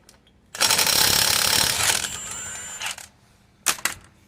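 Wheel coming off a VW Crafter van: a loud, close burst of rattling power-tool noise lasting about two seconds, then a brief second burst after a short pause.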